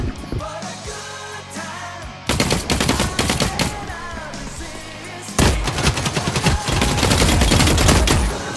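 Automatic gunfire in the shooter game The Cycle: Frontier rattles in loud, rapid bursts, with dense overlapping shots that come in waves and swell into sustained volleys near the end.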